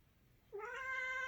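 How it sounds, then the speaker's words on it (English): A pet cat lets out a single clear, rising meow that starts suddenly after a quiet moment and holds on, close and fairly soft. "Get out of here, kitty, kitty, meow, meow."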